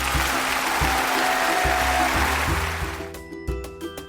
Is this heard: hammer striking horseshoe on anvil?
no